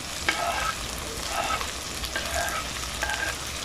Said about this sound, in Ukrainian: І хай обжарюється.